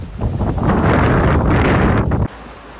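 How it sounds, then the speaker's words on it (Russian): Strong wind on a pier in Odesa buffets the microphone in a loud, rough roar for about two seconds, then cuts off to a quieter hiss. "на пирсе здесь дует ветер и прохладно"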